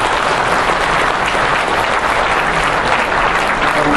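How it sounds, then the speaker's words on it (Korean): An audience gives students a loud round of applause, dense continuous clapping from many hands at close range, holding steady without a break. "우리 박수를 보내주시기 바랍니다."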